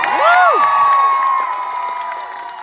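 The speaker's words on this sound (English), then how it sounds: "Can we have a round of applause?" Loud cheering and whooping from a crowd at a live debate event, voices shouting over clapping that starts strong and gradually eases off.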